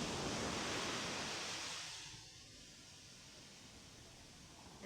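Pacific Ocean surf breaks on the shore at Baler in Luzon, a broad rushing wash that swells loud and then eases into a steady softer roar, heard from nearby with no voices.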